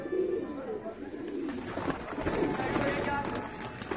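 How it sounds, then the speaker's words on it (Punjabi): Iraqi hybrid tippler pigeons coo softly and throatily nearby while people talk over them throughout. "ਨੀਲੀਆਂ ਅੱਖਾਂ ਦਾ ਕਬੂਤਰ ਵੀ ਦਿਖਾਓ"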